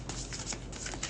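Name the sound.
shuffling tarot cards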